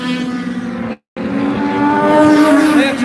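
Race cars roar around the Meridian Speedway oval during a Trick or Treat feature, with loud, sustained engine drone and rising pitch as they pass, briefly cut by a short silent gap.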